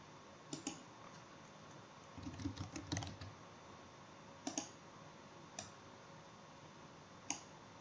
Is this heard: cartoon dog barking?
no